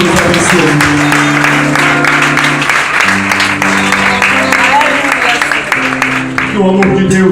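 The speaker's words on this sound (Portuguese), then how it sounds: "dê a Ele uma forte salva de palmas" A Baptist church congregation clapping loudly and continuously, with sustained organ or keyboard chords ringing underneath the applause throughout.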